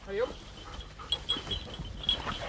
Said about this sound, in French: on entend la chasse, on entend les chiens, on reconnaît la voix des chiens